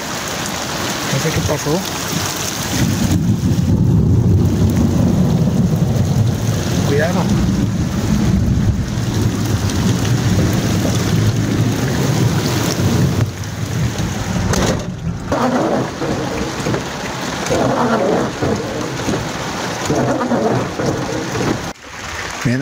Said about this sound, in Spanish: Ahora sí llegó, pero horrible. Y no había pronóstico de lluvia.